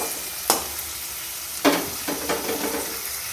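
Green chili, chopped onion and salt frying in a pan, with a steady soft sizzle broken by two sharper stir scrapes and a few smaller clatters, close and fairly loud with no voices.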